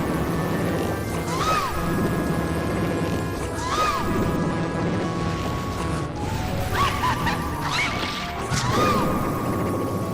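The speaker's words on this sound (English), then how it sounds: "he makes fucking chicken noises" A boss in the Zelda Ocarina of Time / Majora's Mask combo randomizer makes repeated squawking, clucking cries like a chicken, several short rising calls mixed with game music and crashing hits.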